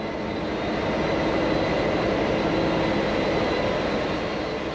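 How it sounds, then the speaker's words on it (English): A standard gauge V/Line N-class diesel locomotive, N464, hauls a Melbourne to Albury service, heard as a steady, loud, continuous rumble and roar of the running train with no talk. "Today's service to Albury is operated by a standard gauge V-Line N-class locomotive."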